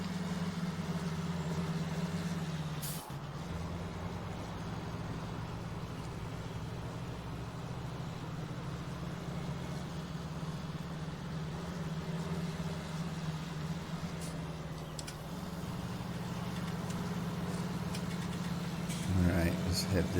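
In Farming Simulator 19, a tractor's engine labours under load with a steady mid-pitched drone that dips briefly twice before climbing again, while a voice talks over it.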